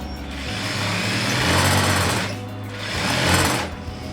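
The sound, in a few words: sewing machine stitching a pillow cover seam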